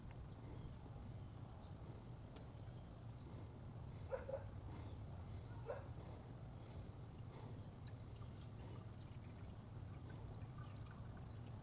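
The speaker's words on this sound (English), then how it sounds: "I'm going to pour all of this in there because I know it takes 5 quarts" Motor oil pours into the engine of a 2007 Ford Focus in a faint, steady trickle, with quiet low hum and small clinks during the pour.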